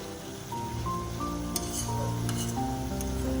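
Red amaranth greens and potatoes fry over high gas heat in a pan, a steady soft sizzle with occasional light scraping and clinks of stirring, close and continuous with no talking.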